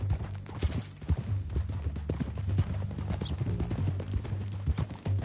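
Horse hooves clip-clop in a steady walking rhythm throughout Red Dead Redemption 2 gameplay, close and continuous, with faint voices now and then underneath.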